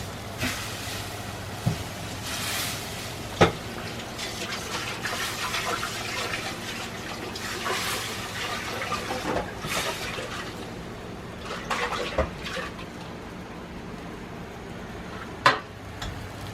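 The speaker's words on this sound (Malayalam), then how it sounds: "അപ്പം നമ്മുടെ മീൻചാറൊക്കെ നല്ലപോലെ അത് തിളച്ചോണ്ടിരിക്കുകയാണ്" Fish curry gravy bubbling steadily in a pot, a continuous wet simmering texture with a few sharp clinks of utensils against the pot, no speech.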